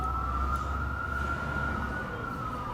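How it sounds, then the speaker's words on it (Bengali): An ambulance siren wails steadily and loudly throughout, holding a sustained tone over a rumble of background noise with no speech heard. "listen this ambulance sound"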